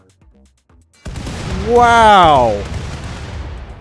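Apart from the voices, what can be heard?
ship hull explosions in video game Rimworld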